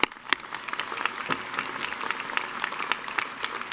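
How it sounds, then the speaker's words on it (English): Crowd applause at a university winter commencement ceremony for a graduating student, lively overlapping clapping from a large audience with sharp close claps standing out, continuing steadily throughout. "let's give him a round of applause"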